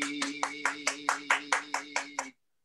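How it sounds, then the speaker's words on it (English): About a dozen evenly spaced claps ring out at a comedy show in a dive bar, sharp and close, over a steady humming tone before stopping abruptly. "Once again, another round of applause for baby girl."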